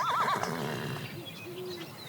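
An old, worn-out horse in a barn gives a loud, quavering whinny that trails off into softer snorts and low nickers, heard alone and close.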